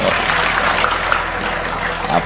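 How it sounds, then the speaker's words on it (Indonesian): Audience applause at a talk, a dense, steady wash of clapping heard up close and fairly loud, continuing for a couple of seconds with some crowd noise mixed in. "Oh, tepuk tangan."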